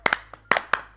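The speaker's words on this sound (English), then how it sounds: "Clap for him now." A few friends clap at home, four sharp distinct claps in an uneven rhythm, close and fairly loud, with no voices over them.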